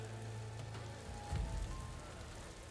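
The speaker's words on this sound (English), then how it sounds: "Rain." Rain falling in Horizon Forbidden West, a steady, fairly faint patter on surfaces with a low rumble underneath, continuous and alone throughout.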